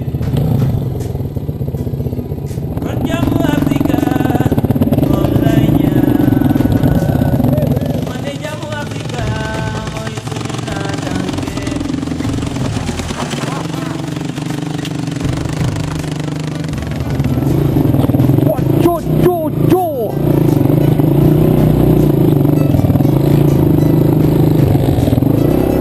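KTM 350 and 525 motorcycles riding through Madagascar, engines droning loud and steady throughout with rising revs and clattering, scraping passages, and a voice talking partly under the noise.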